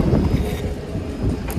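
Chilly wind blowing across the Darjeeling hills, a steady broadband rush buffeting the microphone throughout with low rumbling gusts.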